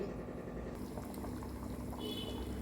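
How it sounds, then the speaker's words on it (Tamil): Chickpea tamarind curry simmers in a clay pot, a soft, continuous bubbling and burble of boiling liquid, fairly faint and steady throughout the short stretch with no speech. "குழம்பு கொதிச்சிருச்சு, காயெல்லாம் நல்லா வெந்துருச்சு"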